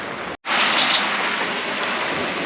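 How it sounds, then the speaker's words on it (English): Heavy rain pours in a loud, dense, continuous hiss close by, broken only by one brief dropout near the start. "it is not light rain out there. And I'm getting soaked."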